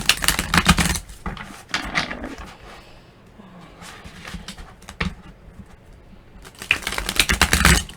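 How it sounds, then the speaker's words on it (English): Tarot cards shuffled on a bare desk with no cloth underneath, giving bursts of quick flicking and tapping clatter at the start, around two seconds and again near the end, with quieter handling in between. "I'm just do a quick shuffle"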